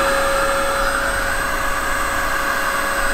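A steady, loud electric pump whines continuously while inflating a high-pressure-floor inflatable boat, with a constant airy drone and a sustained tonal hum and no talk.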